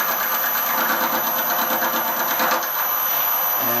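A metal shaper runs at about 550 RPM while cutting a tool holder. It makes a close, loud and steady rhythmic mechanical clatter with repeating strokes throughout.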